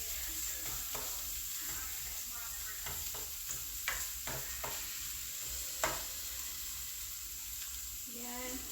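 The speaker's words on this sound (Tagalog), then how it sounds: "rice with carrots and green peas" Chicken fried rice with carrots and peas stir-fries in a pan, a steady sizzle broken by repeated sharp scrapes and clinks of the spatula, fairly close and moderately quiet, with no talking.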